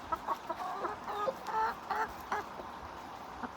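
Backyard chickens clucking while being fed, a quick series of close, short clucks and squawks in bursts over a quiet background.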